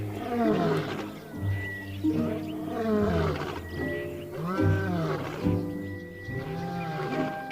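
Lions roar in a dry-season river landscape, several rising and falling moaning calls in a rhythmic series, loud and close with a deep grunting base and no talk over them.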